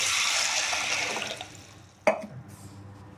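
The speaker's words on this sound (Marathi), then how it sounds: "आता हा 2-3 पाण्यानं स्वच्छ धुवून घेते." Whole masoor lentils are rinsed in water in a kitchen, a soft swishing pour fading over a few seconds before one sharp splash or knock near the end.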